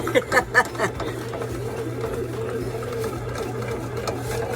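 A bread machine motor hums steadily and evenly while it mixes banana cranberry bread dough, with a few short bursts of laughter near the start.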